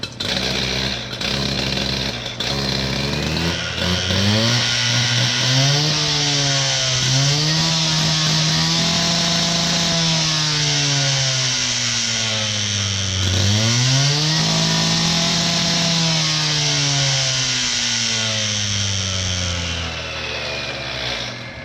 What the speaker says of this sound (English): on these K14s, it's a great idea to get them really nice and warm to ensure that they're running great.